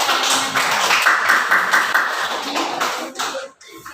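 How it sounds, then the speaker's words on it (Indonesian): A classroom group applauds for a few seconds, with dense, close, loud clapping that fades out at the end. "Berikan aplaus"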